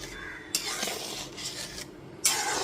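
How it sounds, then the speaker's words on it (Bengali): Arhar dal with sugar and asafoetida is stirred in a pot; a spoon scrapes and rubs in broad repeated strokes, up close and moderately loud, with a sharper clink near the end and no talk. "তারপর সব কিছু খুব ভালো মতো মিশিয়ে নিলাম"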